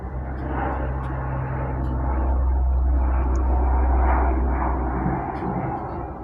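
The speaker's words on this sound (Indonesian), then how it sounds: "kita break dulu teman-teman, ada pesawat lewat dulu ya." Steady low roar of an airplane passing overhead, a continuous engine drone that swells gently in the middle and eases off, heard outdoors with no talk over it.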